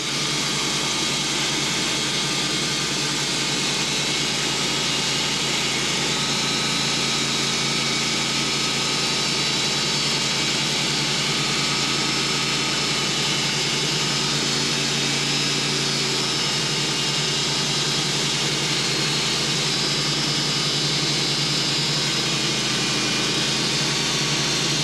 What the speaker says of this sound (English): We're going to see how flat it cuts now because carbide cuts really nice, even in hard hickory like this.